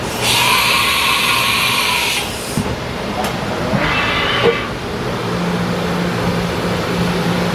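A Haas VF-4 vertical machining center running a dry run gives loud bursts of hissing air spray and whine, with clunks and a steady mechanical hum between them.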